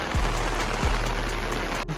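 Steady rain pours onto a road already flooding with water, a dense, even hiss with occasional heavier drops, close and continuous throughout.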